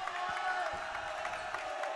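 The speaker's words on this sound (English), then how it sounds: "Crowd getting very noisy here" Noisy basketball crowd cheering and shouting throughout a tight close game at a college gym, a dense, steady roar with scattered whoops and claps filling the hall.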